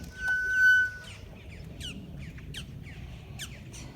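Birds at a lakefront park in Kissimmee, Central Florida, squawk in a series of short, sharp calls at moderate distance over a quiet outdoor background, with a brief louder rustle at the start.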